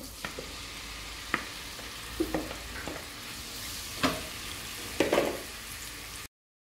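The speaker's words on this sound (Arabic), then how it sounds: "نفس المقلة غادي ندير شوية الزيت وغادي نشحر الكروفيت" Shrimp cut into small pieces frying in a little oil in a pan, a steady low sizzle with scattered stirring clicks and scrapes, no voices.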